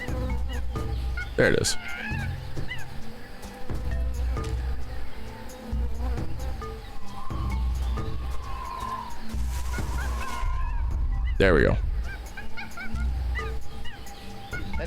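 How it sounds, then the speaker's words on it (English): Jungle ambience from the adventure game Tales of Monkey Island, with animal squawks and cries, including two sharp loud calls, over a steady game backdrop while someone talks throughout. "That jungle sure is noisy."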